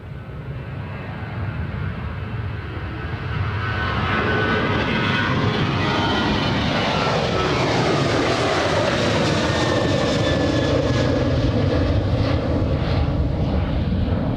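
Alaska Airlines jet departing Anchorage airport, a loud continuous engine roar that swells and holds steady as the aircraft powers away, no voices.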